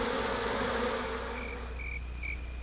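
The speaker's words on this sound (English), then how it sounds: "other bees stand in the doorway, fanning their wings to create a breeze" Honeybees fanning their wings in the hive doorway to cool the hive, a steady insect buzz and high whine filling the clip with no voices.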